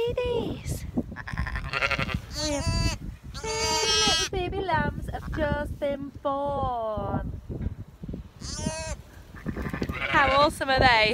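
Several sheep and lambs bleat loudly and repeatedly in a lambing shed, overlapping calls with wavering pitch, some close and some further off.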